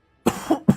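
Two quick coughs from someone recovering from an illness, close and fairly loud, the first rough and drawn out and the second a short sharp burst, with no talking.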